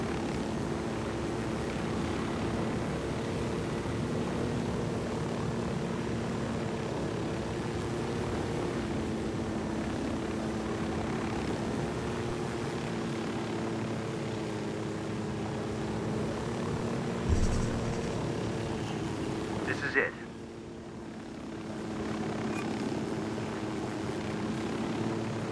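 A helicopter in the video game Ghost Recon Wildlands drones with a steady rotor and engine hum throughout, loud and continuous, then briefly cuts out near the end before the drone resumes more quietly.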